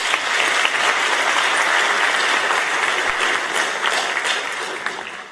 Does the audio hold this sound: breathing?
no